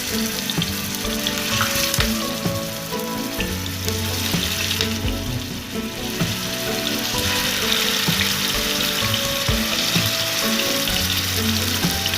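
Fish pieces in a masala fry sizzle steadily in hot oil in a pan, a loud, continuous crackling hiss with occasional spattering pops throughout.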